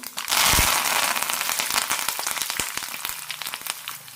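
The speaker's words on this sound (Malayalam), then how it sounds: "കടുക് ഉഴുന്നിടാം ഉഴുന്ന് നന്നായി ചുവന്ന് കിട്ടണം" Mustard seeds and urad dal hit hot oil, bursting at once into a loud, dense crackle and sputter with sharp pops that gradually thin out, close up with no voices.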